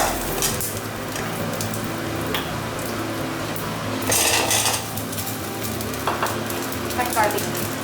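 Onions and tomatoes sautéing in a pan with bay leaf, cinnamon, cloves and fennel for a spicy village-style chicken gravy, a steady close sizzle broken by scraping stirs and a few clinks of the utensil against the pan.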